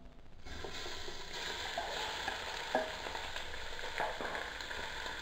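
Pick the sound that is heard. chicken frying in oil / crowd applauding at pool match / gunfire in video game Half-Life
chicken frying in oil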